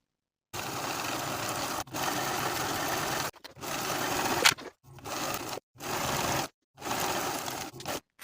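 A sewing machine stitches a pajama side seam from sleeve to leg in several bursts of steady whirring, separated by short silent pauses.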